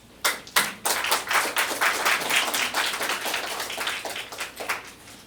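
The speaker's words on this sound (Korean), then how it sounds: "큰 박수 한번 부탁드리겠습니다" An audience applauds for a foundation president as he comes forward, a dense patter of many hands building quickly to a steady, moderately close round that tapers slightly toward the end.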